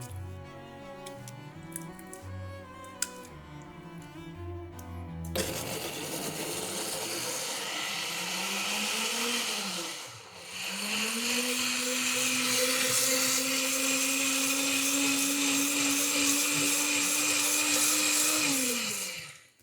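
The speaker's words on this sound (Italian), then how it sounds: "Vado ad inserire all'interno del frullatore il pomodoro." Music plays briefly, then a loud blender motor whirs steadily for a long stretch while blending tomatoes, pausing once before revving back up and stopping abruptly.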